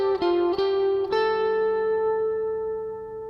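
Lead guitar line from a song intro: three quick picked notes on the third string, then one long ringing note that slowly fades, played up close with no voices.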